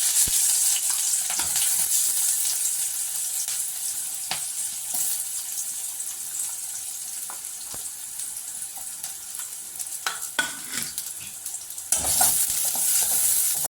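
Onions sizzle steadily in hot oil with mustard seeds, urad dal and cumin while cooking pumpkin poriyal, and occasional scrapes and clinks of a spoon stirring the pan rise over the constant crackle.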